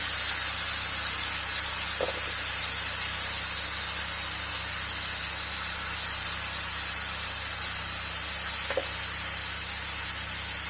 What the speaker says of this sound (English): it's sizzling nicely in that oil with butter and garlic